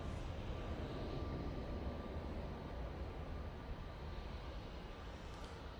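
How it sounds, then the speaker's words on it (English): A Jet2 Boeing 737 airliner approaching Manchester Airport makes a steady, broad roaring rumble that holds evenly throughout, fairly faint and distant with no talk over it. "Jet 2 737 now coming on in front of us."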